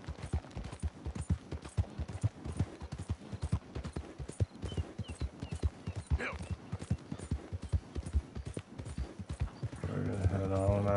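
Horse hooves gallop in Red Dead Redemption 2, a fast, steady clip-clop throughout. Someone talks over the hoofbeats, and game sounds rise near the end.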